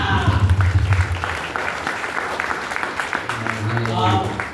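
Applause breaks out at an evangelical prayer meeting in Murtizapur, a crowd clapping steadily for several seconds with a loud preacher's voice and low hum at the start and end.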